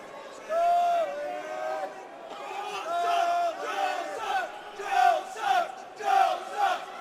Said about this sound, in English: Crowd is giving it to Joe